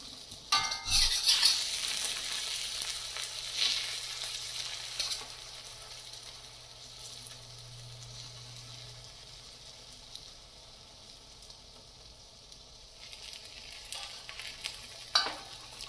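Dried fish (chepa shutki) frying in a pan and being flipped over, with a clatter as it turns followed by a soft steady sizzle that fades slightly, ending with another brief scrape, no voices.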